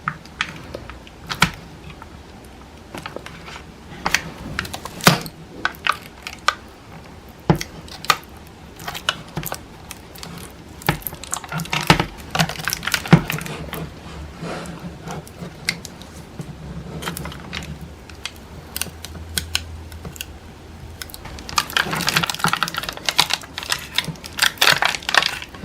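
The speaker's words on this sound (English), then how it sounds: "how you do it is by simply prying it out. You may use a simple tool to gently pry it out." An old, bloated battery pried out of a Lenovo Tab 4 10 Plus tablet with a simple tool against double-sided tape, giving repeated small clicks, scrapes and taps close up, alone without talk.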